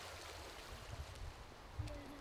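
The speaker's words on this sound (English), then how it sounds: "the route comes down to the River Wye, another of those superb trout streams in this limestone area" The River Wye, a trout stream in the limestone Peak District countryside near Bakewell, flows with a faint, steady broadband rush of water, with low rumbling and a few soft gurgles.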